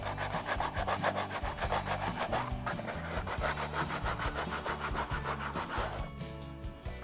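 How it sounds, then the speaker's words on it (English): Coarse sandpaper rubbing rapidly back and forth along the edges of wooden slats, giving a continuous rhythmic rasping scrape close up, with no talk. "Now I'm just kind of using some coarse sandpaper here to clean up the edges."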